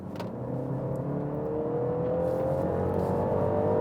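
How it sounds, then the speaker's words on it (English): A 2020 BMW 330e plug-in hybrid accelerates under its temporary electric power boost, its steady drive note climbing gradually in pitch and growing slightly louder, heard from inside without talk. "you boot the 330e, you get a quick hit of extra electric power, like digital nitrous"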